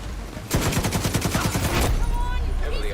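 Gun turret in Tom Clancy's The Division 2 video game firing one steady rapid burst of about a second and a half, loud and close, followed by lighter background combat noise.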